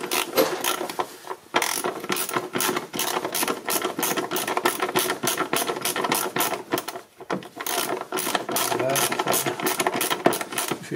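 A ratchet wrench with a 16 mm socket and extension loosens a bolt on the rear shock absorbers of a 2006 Audi A3, giving rapid close clicking in two long runs with a short pause between them.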